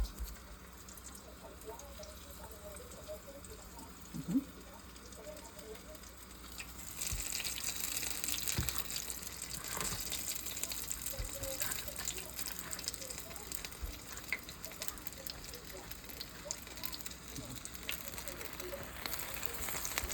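Mushrooms, carrots and onions fry in a pan, a soft sizzle that swells partway through and then holds steady. Quiet clinks and background noise come and go.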